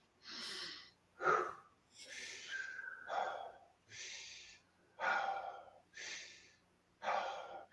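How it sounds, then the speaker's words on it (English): Someone demonstrates fast, deep, continuous breathwork, with eight loud rhythmic breaths in quick succession, sharp inhales alternating with released exhales, close to the microphone. "I'm going to show you an example of how to breathe."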